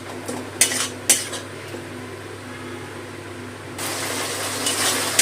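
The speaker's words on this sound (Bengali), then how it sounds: "এখন এই পটলের শাকের সাথে এই মশলাগুলো দিয়ে একটু কষিয়ে নেব" Pointed gourd filling is sautéed with spices in a pan, the spatula clinking and scraping in a few sharp bursts, then a steadier rasp of stirring near the end, with no voices.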